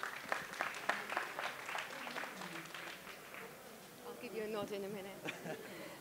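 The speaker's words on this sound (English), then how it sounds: "so give her a big round of applause, please." Audience applause at a free seminar talk session, clapping at moderate level for about six seconds, busy and dense, with a few voices murmuring underneath as it tapers off.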